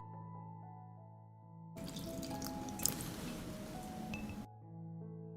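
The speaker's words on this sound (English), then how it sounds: "I will water directly around the roots," Water is poured directly around the roots of garden tomato and pepper plants, a hissing, splashing burst of about three seconds set between quieter stretches of soft tonal background.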